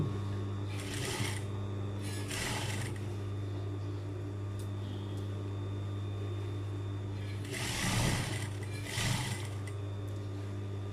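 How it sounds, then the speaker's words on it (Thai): A sewing machine runs in short bursts while stitching the collar seam of a casual tailored suit jacket, a close whirring rattle over a steady low electrical hum, with quiet pauses between runs. "ค่อยๆเย็บตรงมานะคะ เย็บให้เขาติดกัน ตะเข็บแบตะเข็บให้เรียบนะคะอย่าให้ตึง"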